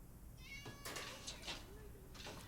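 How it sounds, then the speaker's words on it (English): A big fluffy cat meows a few times in a scene from the film Mockingjay Part 1, moderately loud, over a steady hiss of background noise. "Gotta say though, that cat's fucking cute."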